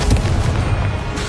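An explosive Confringo spell blast in the Hogwarts Legacy video game, a loud, dense boom that rumbles steadily for just over a second with no pause or talk.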